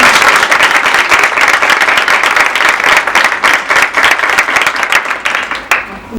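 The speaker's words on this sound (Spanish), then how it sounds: "un aplauso para Isma" Audience applause at a health talk, loud close clapping from a crowd with fast, dense individual claps, sustained and then tapering at the end.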